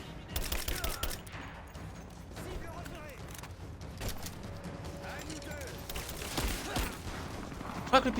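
AK-47 fire in the video game Rise of the Tomb Raider, heard as rapid bursts mixed with game noise and mechanical clatter, with a voice talking over it.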